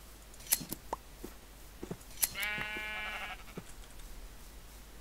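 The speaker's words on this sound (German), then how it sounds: "Ich geh mal wieder Schafe ernten." Minecraft sheep being sheared: a few short clicks and snips precede a clear, wavering sheep bleat in the middle, with quiet game ambience around it and no talking.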